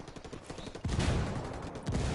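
Dense bursts of automatic gunfire from the Ghost Recon video game, a sustained fusillade with heavier volleys starting partway through and again near the end, loud and close.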